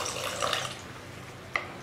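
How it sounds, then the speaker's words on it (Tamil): Water poured from a cup into masala paste in a pan while cooking mutter paneer, a brief soft splashing pour followed by a small drip-like tap. "1/2 கப் அளவுக்கு இது கூட தண்ணி"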